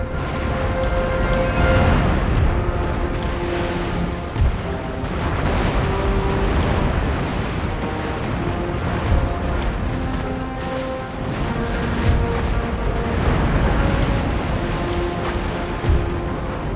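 Naval cannon fire in the strategy game Empire Total War during a bay battle with Spain, repeated heavy booms rolling one after another over a constant roar of battle, with occasional speech.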